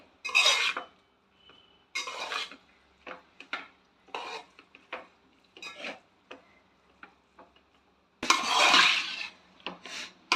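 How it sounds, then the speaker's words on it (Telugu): Egg being stirred into noodles in a pan, heard as a series of short scraping and clinking utensil strokes against the pan in irregular bursts, close and fairly clear, with no talking. "ఆ ఎగ్ని నూడిల్స్ని బాగా కలుపుకోవాలి"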